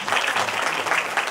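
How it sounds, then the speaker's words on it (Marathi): An audience at a Mumbai municipal award ceremony gives a short, loud round of applause for an honoured guest, a dense, steady patter of many hands in a large hall. "एकदा जोरदार टाळ्या साहेबांसाठी."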